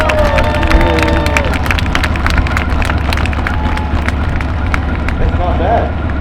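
A large audience at a tank event, Armageddon Tank Saturday, breaks into sustained applause, whoops, hollers and cheers, dense clapping spread throughout at close range with shouts rising over it.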